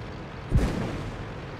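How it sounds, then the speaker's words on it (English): A single tank cannon shot in World of Tanks, fired at the player's MT-25 light tank, lands as one deep, brief boom with a short rumbling tail over steady engine noise. "Someone's shooting at me now"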